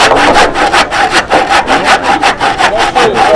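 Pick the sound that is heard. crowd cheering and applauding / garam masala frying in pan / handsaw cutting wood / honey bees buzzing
handsaw cutting wood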